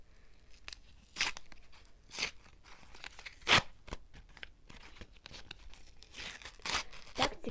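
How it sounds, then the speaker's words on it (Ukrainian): Sticker packets being torn open by hand, a series of sharp close ripping and crinkling bursts in an irregular rhythm with quieter rustling between, no talking. "цікаво відкривати пакетики"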